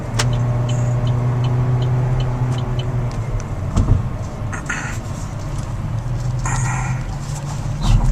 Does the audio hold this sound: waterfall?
no